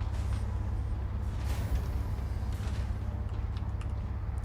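The engines of a Mole mining ship in the video game Star Citizen give off a low, steady rumbling hum with a faint airy hiss, continuous and unchanging, with no voices.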